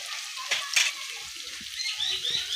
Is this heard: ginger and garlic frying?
yes